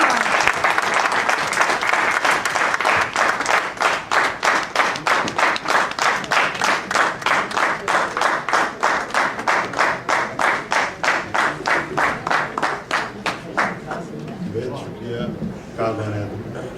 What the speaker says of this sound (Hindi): भरपूर तालियों में पजीराई कीजिए जनाब वज़ीर आज़म शाहीन साहब